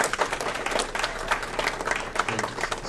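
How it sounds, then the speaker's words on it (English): An audience at an evening show breaks into a short, close burst of lively applause, individual claps audible within the crowd's steady patter. "Let's give a big round of applause to Robert."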